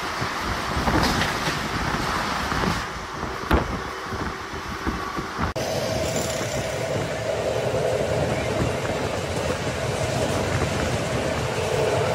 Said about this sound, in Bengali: এখন আমাদের ট্রেন পার করলো খানা জংশন